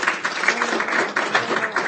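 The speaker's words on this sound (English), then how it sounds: "I don't think we should have applauded tonight" Applause at a school board trustees meeting, a moderate patter of hand clapping from a room of people, continuous and fairly close throughout.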